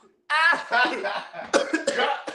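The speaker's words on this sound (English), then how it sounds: "she's coughing all over my sauce" A burst of several harsh coughs in quick succession, close and loud, with a voiced, raspy quality between them.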